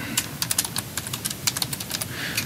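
Rapid clicking keystrokes on a computer keyboard, close and moderately loud, in an uneven quick rhythm over a low background hum, with no speech.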